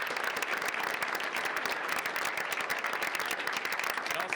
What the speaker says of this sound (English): So big round of applause for those guys.